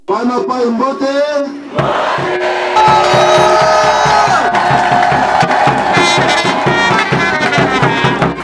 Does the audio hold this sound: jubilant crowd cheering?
yes